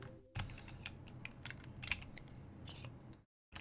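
A PBT spacebar on a polycarbonate keyboard is pressed repeatedly, giving a quick series of close, crisp clacks and thocks over a few seconds before the sound cuts off.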